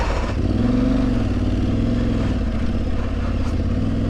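Aprilia Tuareg 660 motorcycle engine revving steadily as the rear wheel spins on a slimy trail, a loud, close, sustained drone with slight pitch rises.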